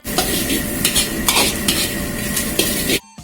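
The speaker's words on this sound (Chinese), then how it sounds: "下入切好的杭椒和小米辣，干煸一下" Chopped Hang peppers and bird's eye chilies dry-fry, sizzling loudly in a hot dry wok, while a spatula scrapes and stirs in quick, repeated strokes, then it cuts off abruptly.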